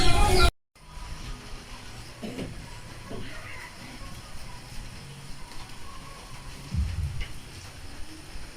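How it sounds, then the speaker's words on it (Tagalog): Heavy typhoon rain falls outside, a steady broadband hiss heard from indoors that runs beneath someone talking throughout. "Sobrang ulan. Walang tigil yung ulan yung araw na to."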